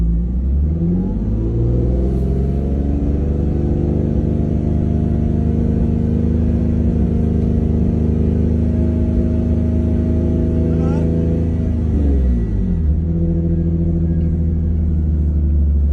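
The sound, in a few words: car engine revving to 3,500 RPM with catback exhaust mod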